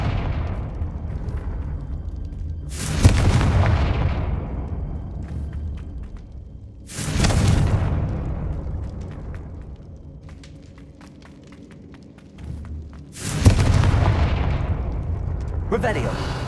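Three booming fire-spell explosions from Hogwarts Legacy, the Confringo blasts hitting roughly every five seconds with a sharp onset and a long rumbling fade, over ambient game sound.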